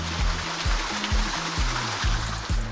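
Rushing water pours down a Southern California waterfall steep enough to slide on, a close, steady broadband roar with a low pulsing rhythm of dull thumps underneath.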